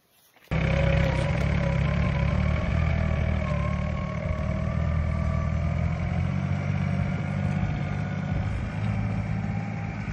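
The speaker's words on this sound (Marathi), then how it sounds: "हे आपले छोटे ट्रॅक्टर टार्गेट." A small Target tractor engine runs while sowing wheat in a field, starting abruptly and then holding a steady close mechanical drone with a low rumble and faint shifting tones, no voices.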